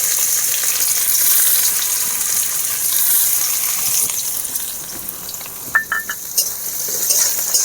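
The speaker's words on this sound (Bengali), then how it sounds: "তেল গরম হয়ে গেছে। এবার আমি পেঁয়াজ কুচি দিয়ে দেবো।" Chopped onions fry in hot oil in a wok with a loud, continuous hiss, and a few brief clinks of a utensil stirring near the end.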